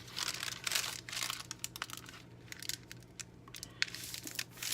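Tracing paper is crumpled by hand to rough up its edges, giving repeated close crinkling and crackling bursts in irregular rhythm, loud and alone.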